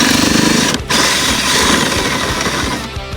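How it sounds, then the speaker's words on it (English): A power drill bores down through a trailer deck and small metal spacers, producing a loud, continuous grinding drone with rhythmic pulsing and one brief dip partway through. "Now I need to drill down through the deck through my 2 little metal spacers in there."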